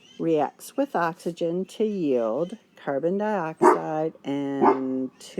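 Dogs bark and whine at home, their yips mixing with and partly masked by a person's steady speech throughout.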